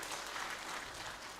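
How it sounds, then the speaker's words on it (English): Audience applause at the HERI Africa launch event, a steady wash of clapping from a sizable crowd that stays fairly even and slowly eases, heard at a distance with no talk over it. "we can give him a round of applause"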